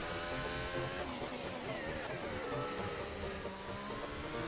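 A racing car laps the Spain circuit in a driving video game, a continuous high engine whine shifting pitch through gear changes, steady and moderately quiet with no voices.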